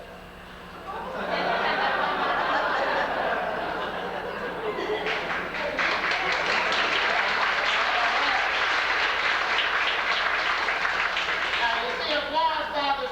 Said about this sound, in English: Applause bothers some magicians,